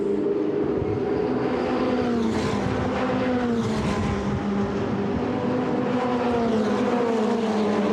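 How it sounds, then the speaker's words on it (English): Ferrari Challenge race cars at Le Castellet, a loud continuous roar of several engines with shifting pitched tones as they pass and rev, close and dominant with no voices. "So as they cross the timing line and go downhill into turn number 1, is Chris Froggatt going to dive"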